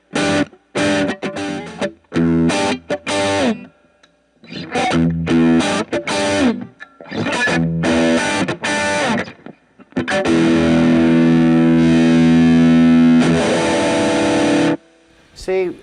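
Electric guitar played through a Friedman BE OD Deluxe clone overdrive pedal set near the edge of breakup, loud chords and riffs broken by short pauses, ending in a long sustained ringing chord.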